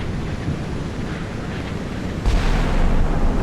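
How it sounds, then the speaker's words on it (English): Naval gunnery from Virginia-class ships in Sea Power, a rushing sea-like roar of wind and surf that swells into a deep, heavy boom partway through, sustained and loud, with no voices. "Naval gunnery from the Virginias."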